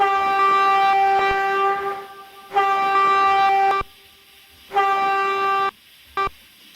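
A QJ steam locomotive horn in the Trainz game sounds three long, harmonically rich blasts separated by short gaps, then a brief final toot, loud and close.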